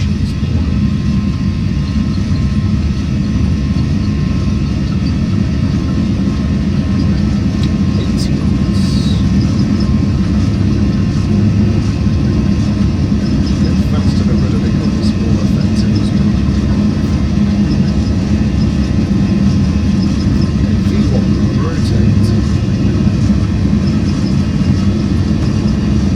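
A Boeing 737's engines sit at takeoff thrust through the takeoff roll, heard from the cockpit as a loud, steady roar and rumble that never lets up. The roar fills the whole stretch.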